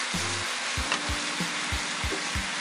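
Potatoes fry in a pan with a continuous soft sizzle, broken by a series of evenly spaced low thumps and scrapes, heard close and fairly quiet.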